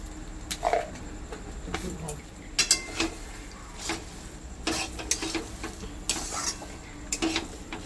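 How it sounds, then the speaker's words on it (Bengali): Egg curry stirred in a pan after sugar goes in, with a soft sizzle under repeated spoon scrapes and clinks against the metal, some near and sharp, others lighter. "চিনিটা দিয়ে এবার ভালো করে নাড়াবো।"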